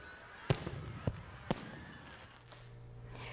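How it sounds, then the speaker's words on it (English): Fireworks at a nighttime celebration in Freeport, The Bahamas crack in three sharp, spaced bangs over a low rumbling background, heard from a moderate distance. "a spectacular fireworks display, which is always a treat for the young and young at heart"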